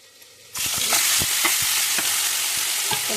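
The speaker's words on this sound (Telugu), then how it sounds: "ఇక ఫిష్ కోసం ఆయిల్ వేడైందండి ఫిష్ ఫ్రై కోసం" Fish hits hot oil and bursts into a loud, steady sizzle that starts abruptly and holds, with faint stirring taps and clicks underneath.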